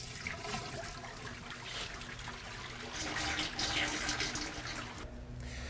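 Water drains from a floor scrubber's recovery tank as a steady, rushing flow that swells louder midway before easing, close and continuous with no voices.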